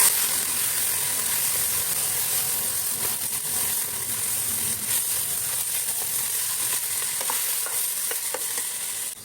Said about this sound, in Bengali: চালগুলো আমি ভালো করে একটু ভেজে নেব।